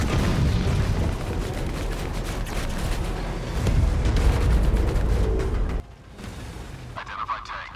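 An American M60 tank's cannon fires during MWT Tank Battle combat, dense rumbling booms and blasts rolling continuously, then a sudden drop to a quieter engine drone with faint radio-like chatter.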